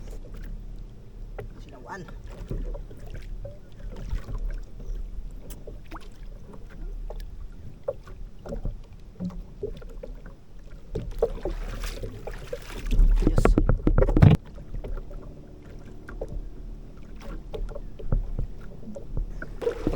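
A small fishing boat reverses through water with soft sloshing and low engine rumble, wind buffeting the microphone, and a louder surge near the end.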